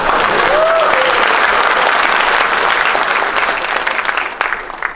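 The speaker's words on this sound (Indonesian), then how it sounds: "Gak usah tepuk tangan" Loud, dense applause from an audience at an Indonesian public talk, sustained clapping close and full, tapering slightly toward the end with a brief whistle-like tone early on.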